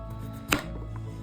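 A knife makes a single sharp chop through a big raw zucchini on a cutting board, one crisp hit heard close over a steady low background hum.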